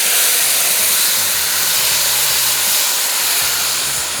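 Mutton hits hot oil already sizzling with white cumin, setting off a loud, steady, close-up sizzle and hiss that runs unbroken throughout with no voices.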